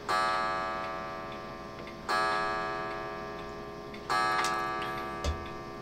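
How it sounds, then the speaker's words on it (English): A clock ticks loudly and slowly indoors, striking three clear beats about two seconds apart, each ringing out and fading, with no talk. "And the clock is going off."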